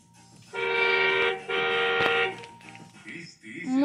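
A children's electric Volkswagen ride-on car sounds its horn in two close, steady electronic honks, each about a second long, followed by softer mechanical clicks and noise.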